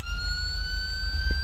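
An ambulance siren in the GTA V video game wails as a steady electronic tone that slowly climbs in pitch, with a low rumble of traffic or engine underneath and a brief thump near the end.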